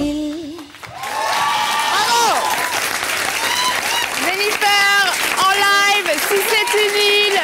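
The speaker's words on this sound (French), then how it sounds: "On les applaudit très très fort." Studio audience applauding and cheering for a singer on a TV show, loud clapping with excited shouts and whoops rising over it, the crowd swelling after a brief dip at the start.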